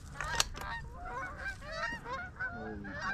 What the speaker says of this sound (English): A bunch of ducks